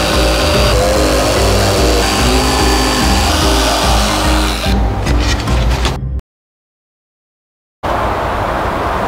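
Jigsaw cutting an entrance opening into a spring-roll box for a cat tower, a loud continuous buzzing cut that runs steadily before the sound drops out abruptly to silence, then resumes.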